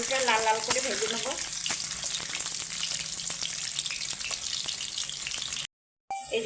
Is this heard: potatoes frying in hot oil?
yes